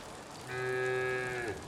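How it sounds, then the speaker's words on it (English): A single drawn-out cow moo from the Foundation video game, loud and close, lasting about a second over a faint steady background. "Okay, we have cows."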